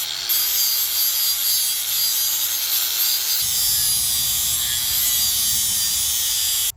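Worn lawn mower blades are sharpened with a continuous, close, harsh abrasive grinding that holds steady for several seconds. Its tone shifts partway through, and it stops abruptly.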